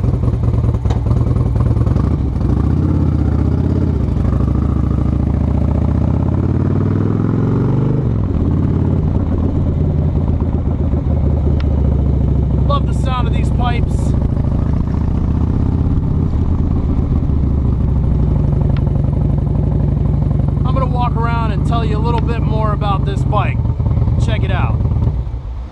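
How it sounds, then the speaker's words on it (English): A 2006 Harley-Davidson Road King Classic with Vance & Hines pipes, ape hanger bars and a stage one upgrade rides along, its engine a steady low rumble throughout while someone talks over it. "Let's take this thing for a short ride."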